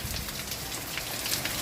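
Steady rain patters on a hard surface in a dense, continuous hiss of drops from an on-and-off shower, with no voices.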